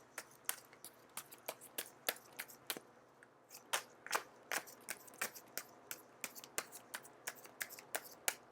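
Tarot cards are shuffled near the mic in a run of crisp, irregular flicks and snaps, quiet overall with no voices.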